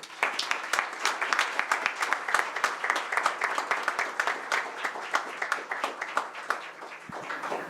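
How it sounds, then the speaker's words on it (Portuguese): A plenary session audience at the Bahia state audit court applauds steadily for several seconds, a moderate, even patter of many hands clapping in a large room, with no speech over it. "Uma salva de palmas."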